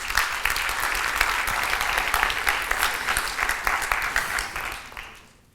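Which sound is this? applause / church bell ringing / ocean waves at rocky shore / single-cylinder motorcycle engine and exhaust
applause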